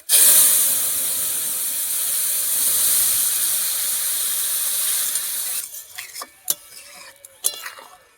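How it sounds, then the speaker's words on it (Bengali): Hot oil with fried leaves erupts into a loud, hissing sizzle as a village-style vegetable curry with gravy hits the pan, the roar holding steady for several seconds before dropping into softer bubbling and a few sharp clinks of a utensil. "যে ঝোল তরকারিটা করে রেখেছিলাম সেটাকে এখানে ঢেলে দেবো"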